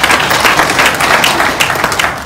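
Audience applause at a direct selling business seminar, a loud, dense burst of clapping throughout the short moment with no clear voices.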